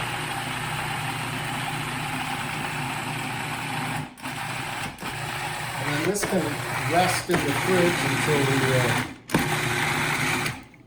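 An electric mixer whirs steadily while persimmon tart filling is blended, a continuous motor hum with brief pauses and strained shifts as the batter thickens, running under a person talking.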